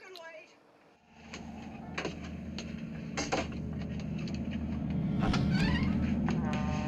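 Pet cat meowing in a sorority house attic in the 1974 horror film Black Christmas, a few short cries rising over a steady low hum and rustling movement, moderately near.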